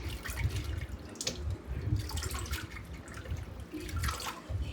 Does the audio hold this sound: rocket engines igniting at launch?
no